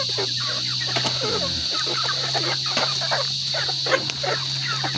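Chickens cluck and mutter while being fed at a rural yard, several birds calling in short, overlapping bursts over a steady humming drone.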